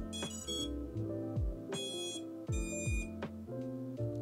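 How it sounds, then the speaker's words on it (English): A bound drone beeps when powered, giving a series of tonal beeps: a few short rising chirps, then lower pulses, close and clear with nothing else over them. "you will hear that the drone would make five total beeps."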